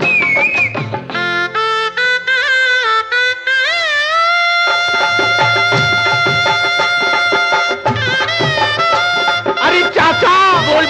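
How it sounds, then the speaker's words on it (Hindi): A shehnai plays a bright, wavering melody with long bending notes, loud and up front, in a scene from the Hindi film Bhanwar. "ये तो शहनाई की आवाज है"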